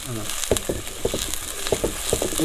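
Small shallots sautéing in oil in a pan for a mackerel curry, giving a continuous close sizzle with periodic stirring scrapes, under a little background talk.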